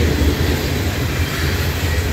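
Norfolk Southern freight train 564, led by locomotive 4107, rumbling past close by in Creighton, Pennsylvania, a loud continuous rolling roar of wheels and cars with no talk.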